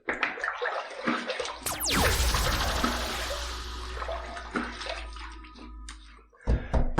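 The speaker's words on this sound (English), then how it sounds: "we've got this hot water that's been here, and we're just going to dump that into the sink" Hot water from a shaving mug is poured out into a sink, a close, loud rushing splash and gurgle that flows for several seconds, then trickles off into drips and brief handling noises.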